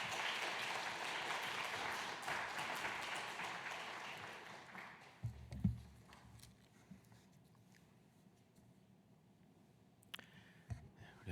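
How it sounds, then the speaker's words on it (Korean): A church congregation at a Wednesday prayer meeting claps to welcome a newly installed pastor, a dense crackle of many hands for about five seconds that then dies away, leaving quiet room noise and a few scattered thumps. "우리 나올 때 박수를 크게 환영해 주시기 바랍니다"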